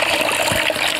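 Water runs from a shower hose rigged up high inside a damaged house, a steady, close hiss of spray that continues evenly throughout with no one talking.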